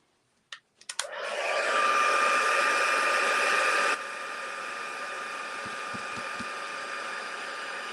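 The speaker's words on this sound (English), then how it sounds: "So I'll just heat set that and we'll do it again." A handheld heat tool heat-setting a crooked craft piece: a few clicks, then a loud, steady blowing whir with a constant whine that drops to a quieter setting partway through and keeps running alone.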